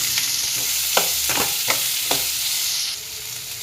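Onion frying in hot oil with lentils and dried chillies for ragi adai: a loud, continuous hiss of sizzling up close, broken by a few brief scraping stirs, settling slightly quieter near the end.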